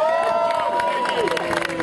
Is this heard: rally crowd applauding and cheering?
yes